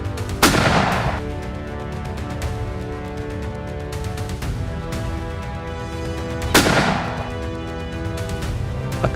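Two heavy, booming shots from a large-caliber hunting rifle, such as a .300 Winchester Magnum, fire several seconds apart in an open outdoor setting in Kenya, and each blast rolls out into a long echo.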